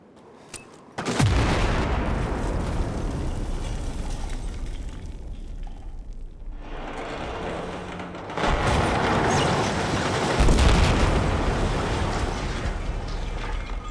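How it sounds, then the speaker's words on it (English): Explosives hitting and bringing down a guard tower in Battlefield 4, heavy booming blasts with rumbling debris: a sharp hit near the start, a sustained roar, then renewed loud explosions midway through, with no speech. "any sort of explosive device against this guard tower will eventually bring it down."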